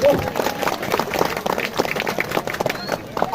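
An audience at a Balinese comedy show in Bangli breaks into lively, continuous applause and crowd noise, with voices mixed in through the clapping.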